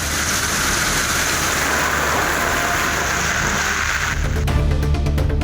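Heavy rain during a thunderstorm with lightning, pouring for hours over a town: a dense, steady roar of downpour, loud and close, with a low rumble swelling near the end and no voices.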